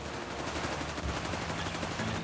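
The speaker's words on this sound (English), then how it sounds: "Rangers streaming in there with their Thompson submachine guns" Thompson submachine guns fire in the Company of Heroes 3 strategy game, a dense, continuous clatter of automatic fire that runs through the whole moment without a break.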